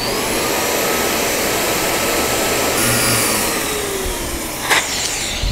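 An electric air pump deflating an inflatable towable tube through a speed safety valve gives a loud, steady, close whooshing drone that runs throughout with slight shifts in pitch.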